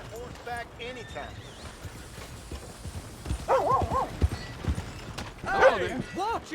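Horse hooves clip-clop in Red Dead Redemption II, a loose, uneven trotting patter under a voice and game ambience, with a brief high whinny-like sound early on.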